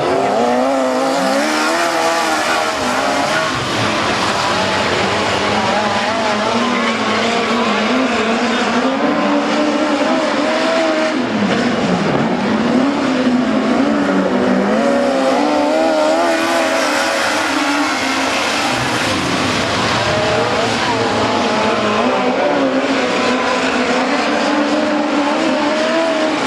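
Midget race cars roar continuously around a dirt track during a 40-lap King of the Springs race, engines whining and shifting pitch as packs pass, loud and sustained with no talk.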